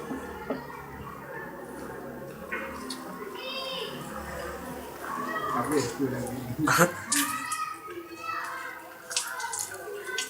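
Water is poured and splashes during a ritual washing of a body, practised by Islamic boarding school students in Aceh, with intermittent near splashing and dripping under ongoing voices and background chatter.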